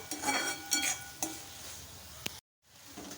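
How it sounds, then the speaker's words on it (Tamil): Onion, tomato, carrot and green chili sauté in a pan over medium heat with a steady soft sizzle, punctuated by a few spatula scrapes and light clinks, then a brief cut to silence near the end. "பாருங்கள் எல்லாமே நல்லா வதங்கிடுது"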